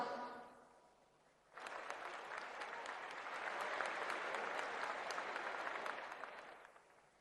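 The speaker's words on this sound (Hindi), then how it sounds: "पुनः एक बार अभिवादन करते हुए तालियों से आपका स्वागत।" Broad audience applause at the closing ceremony of the 37th National Games in Goa breaks out suddenly after a brief spoken moment and stays steady and full before tapering off.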